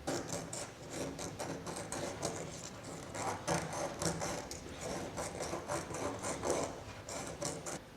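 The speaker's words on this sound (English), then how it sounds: "So I'm going to quickly sand the inside of this a little bit" Sandpaper rubs by hand against the inside of a surfboard planer shoe in quick back-and-forth rasping strokes, close and continuous with an uneven rhythm, no talk.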